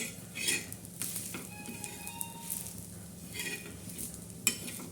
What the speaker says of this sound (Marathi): त्याच्यात थोडं आपण किसल्याला खोबरं भाजायचं आहे आणि हे चार लाल मिरच्या बी त्याच्यातच टाकून भाजायच्या